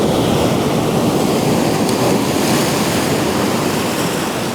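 Ocean surf breaks on the shore in a dense, continuous roar, loud and close with no pauses, mixed with wind noise on the microphone.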